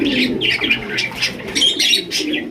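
A large pigeon coos in repeated low, throaty rolling calls, close and clear, with brief pauses between phrases and no talking.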